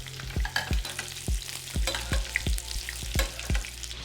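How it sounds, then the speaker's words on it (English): Fillet steak sizzles and fries in a buttered pan, with a steady loud crackle broken by regular, evenly spaced thumps and scrapes as the meat is turned and the butter basted over it. "We're going to add our fillet steak into a buttered pan, making sure we brown all 4 sides."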